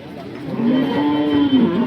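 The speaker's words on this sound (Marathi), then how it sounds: "शेतकऱ्याची गाय बघा." A cow lows at the Sangola cattle market in Maharashtra, one close, loud, drawn-out moo that bends slightly in pitch, with crowd noise in the background.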